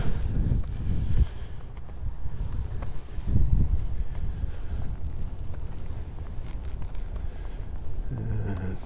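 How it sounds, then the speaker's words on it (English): Steady outdoor winter wind in North Dakota rumbling and buffeting the microphone, with low gusty roar throughout and a couple of stronger bursts early on. "it's windy, so it feels colder than whatever it is"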